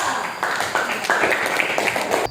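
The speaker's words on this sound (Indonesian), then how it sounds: "tepuk tangan untuk Dika" Brief classroom applause for a student, with a cluster of quick hand claps from a small group, fairly close, lasting about two seconds and stopping abruptly.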